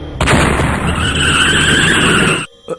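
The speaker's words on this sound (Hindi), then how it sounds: "लगता है गाड़ी का टायर फट गया है।" A car tyre bursts with a loud, sudden blast that rolls into a long, harsh rushing noise for over two seconds, then cuts off abruptly into near silence with a faint final thump.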